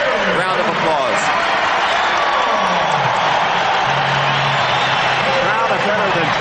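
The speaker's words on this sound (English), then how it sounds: "the people are giving him a very deserved round of applause" A sellout crowd of over 20,000 at a basketball arena during the 1981 NBA All-Star Game applauds and cheers a player, a dense, steady wash of clapping and crowd noise with a commentator talking over it throughout.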